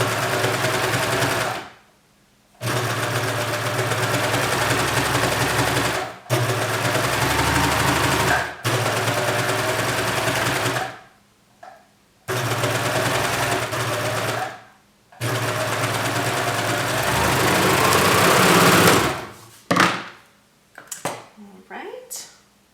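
A sewing machine stitches a shirt garment in long loud runs of rapid mechanical whirring, broken by short pauses, ending in a few quick start-stop bursts.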